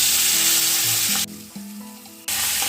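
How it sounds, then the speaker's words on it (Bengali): Steady sizzling of a fish head frying in hot oil, broken by a brief quieter stretch with faint clinks before the crackling returns. "মোচার জন্য মাথাটা ভেজে নেব"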